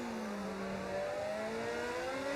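A modded Formula 1 car in a racing video game, its engine note roaring steadily and rising in pitch as it accelerates through the gears, loud and alone without talk.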